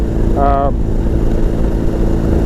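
A steady, even BMW R18 boxer twin motorcycle engine rumble runs throughout at close range, low and continuous, with a brief tonal whine rising over it near the start.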